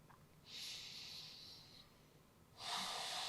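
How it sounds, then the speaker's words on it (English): Slow breathing in and out through the nose during a calm yoga and Pilates stretch, two soft airy breaths with a quiet pause between, faint and close. "Breathing in and out through the nose, sending that breath all the way down to your lower belly"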